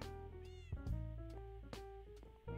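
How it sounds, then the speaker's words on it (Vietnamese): Cat meowing in the Minecraft video game, a few short mewing calls rising over steady game music with no talking. "Trên này có mèo, mình sợ à."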